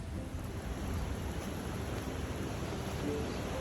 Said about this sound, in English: You can hear that river rushing down below me.